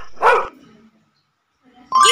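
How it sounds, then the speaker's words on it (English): A single short dog bark sounds clearly up front in a kids' animal quiz game, followed by silence and then a bright chiming tone. "Dog!"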